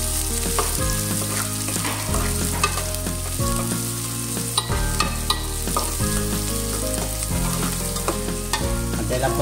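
Garlic and onion sauté in a pan for a misua soup with ground beef, a steady close sizzle under a lively backing track with no voices.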